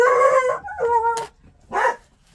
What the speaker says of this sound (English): excuse my dogs. There's deer in my yard